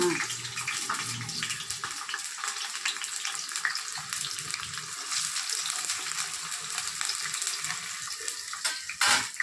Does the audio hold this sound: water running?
yes